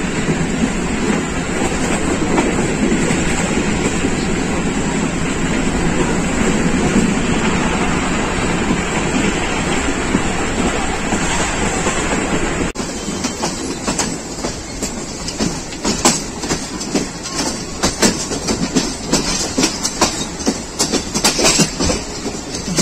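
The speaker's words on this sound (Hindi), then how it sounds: "रेलगाड़ी गुजरात पहुंच रही है।" A Pakistan Railways rail car runs on its tracks on the Rawalpindi to Gujranwala line, arriving at Gujrat: a steady loud rumble, then rapid clattering wheel clicks over rail joints through the second half, with no voices.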